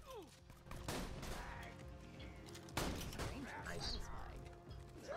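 Shotgun gunfire in the video game Borderlands 2, two heavy blasts a couple of seconds apart over dense game noise and rumble, loud and close.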